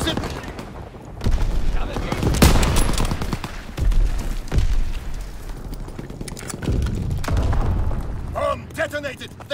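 A bomb detonates amid a battlefield in the video game Call of Duty: WWII, with a deep boom surrounded by rapid gunfire, heavy thuds and shouted voices throughout.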